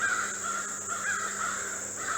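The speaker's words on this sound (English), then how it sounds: "listen to all those birds." Crows cawing steadily through the woods, their harsh calls overlapping at a moderate distance with a constant high insect-like hiss behind them.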